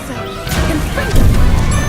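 In Hogwarts Legacy, an explosive Confringo spell hits with a loud crashing burst. A short rushing build-up comes first, then a heavy impact that swells and keeps roaring amid battle noise.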